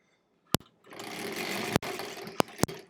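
Sharp clicks of a sewing machine are followed by a steady motor run stitching quilt block seams, broken by a few more sharp knocks toward the end, close and without speech.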